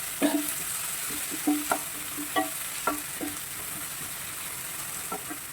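Tomatoes and onions sautéing in a pan for aloo masala, with a soft background sizzle and a series of distinct spatula scrapes and taps at irregular intervals, close up and with no talk.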